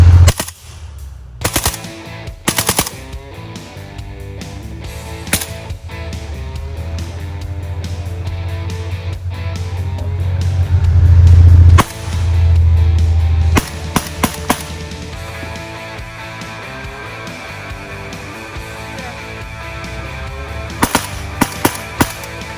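AK-47 Kalashnikov rifle fired at a Russian military theme park, loud rapid bursts of automatic fire separated by pauses, with a low rumbling background between volleys.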